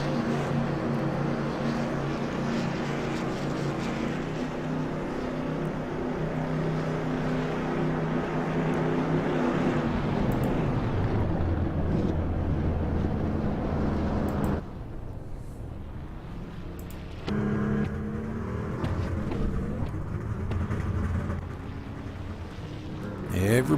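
Race cars rolling down pit road during a stock car broadcast, a loud continuous engine drone with shifting pitch that drops away partway through, heard under steady commentary.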